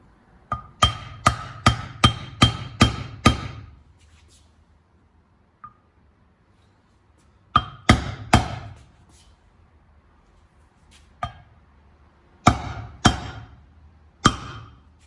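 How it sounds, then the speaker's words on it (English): Repeated sharp hammer blows on an aluminum block, a fast run of about seven strikes, then a pause and several more scattered impacts, each ringing briefly and clearly. "So we'll just place this thing in there and hammer away."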